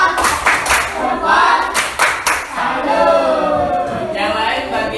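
A classroom of students claps in a quick burst of loud, fairly rhythmic claps, after which a voice talks and the clapping fades under it.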